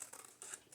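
Scissors snip through paper during a crafting session for Valentine journal ephemera: a few quick, quiet close-up cuts in a short burst, with no voices.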